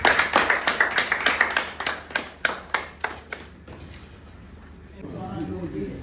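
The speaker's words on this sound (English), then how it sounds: "Please give him a round of applause." Sparse applause for the winner of an under-15 boys' Lagos grassroots football tournament, a dozen or so separate claps that thin out and stop, then a voice speaking over room noise.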